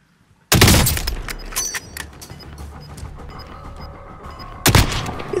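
Gunfire rattles through a shooter video game on PS4, a loud opening volley of rapid shots, then scattered bursts, and another strong burst near the end, all close and punchy.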